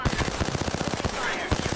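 Rapid automatic gunfire in the battle royale game Apex Legends, a dense burst of repeated shots rattling close and loud for nearly two seconds.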